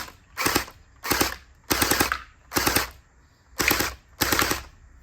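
Anstoy gel blaster fitted with an upgraded drum magazine, firing six loud, close bursts of rapid shots with short pauses between them and no talk.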